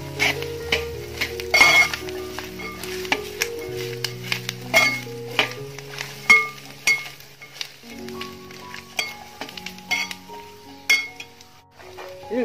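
Garlic pickle being stirred in a pan, with a spoon clinking repeatedly against the metal in an uneven rhythm, close and fairly clear, alongside faint scraping and a light sizzle.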